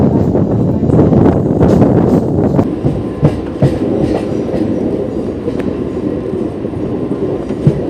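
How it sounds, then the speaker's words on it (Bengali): A Santragachi-Amta local train runs along the rails toward Amta, giving a loud, continuous rumble with rhythmic clickety-clack wheel beats and occasional sharper knocks, heard from inside the moving carriage without talk. "আমাদের ট্রেন এদিকে কালবে নিয়ে নিল, চলে যাচ্ছি আমরা আমতার দিকে"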